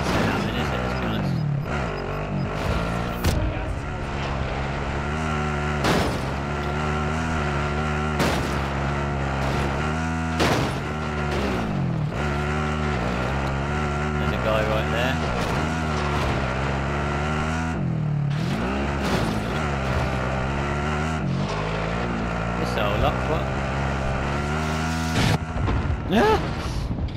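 A car driving in the video game Warzone, a steady engine drone with shifting revs running loud and continuous throughout, with sharp game bursts and a talking voice over it.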